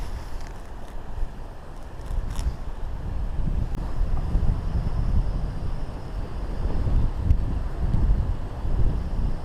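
Gusty wind buffets the microphone on a snowy sea shore at the Swale in Kent, a loud, rumbling roar that swells and eases with the gusts, alone without talk.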